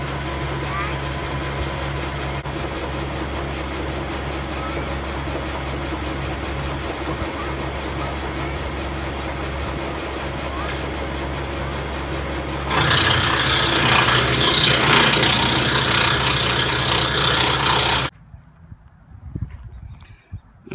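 John Deere 1 Series tractor driving a Woodmaxx TM86H chipper through the PTO, a steady low engine drone that rises louder near the end before cutting off, with some talk over it.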